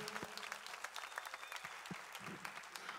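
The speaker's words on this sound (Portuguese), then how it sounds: "Uma salva de palmas para o Pedrinho, para o pastor." Applause from a church youth audience at a PIB Curitiba gathering, honoring Pedrinho and the pastor; a short burst of scattered clapping, fairly faint and roomy, with a few louder individual claps standing out.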